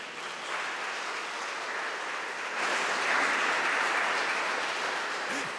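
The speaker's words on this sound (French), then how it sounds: "On peut l'applaudir." A church congregation claps together in a steady, even wash of applause that grows a little louder partway through and continues to the end, with no talking over it.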